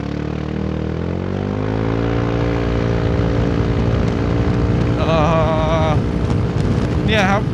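A Yamaha Forza 350 scooter with its exhaust baffle fallen out, held at a loud, steady high rev near 7,000 rpm, a dense droning roar that climbs slightly at first, with a brief voice in the background.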